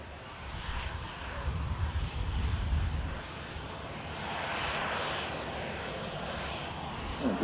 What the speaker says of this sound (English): Next to line up as the Ryanair vacates.